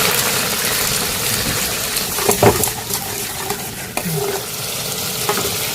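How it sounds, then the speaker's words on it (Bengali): Ginger and green chili paste sizzling in hot oil in a pan while being stirred, a steady close frying hiss with occasional scrapes and knocks of the spoon. "আমি আদা কাঁচা লঙ্কার পেস্টটা ভেজে নেব।"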